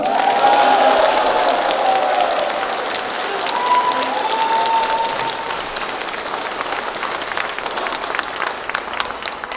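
A crowd applauds continuously, a dense, steady clatter of many hands clapping that holds for the whole stretch.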